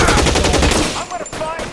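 Rapid automatic gunfire from the video game L.A. Noire, a loud close burst of shots that fades into scattered echoing reports.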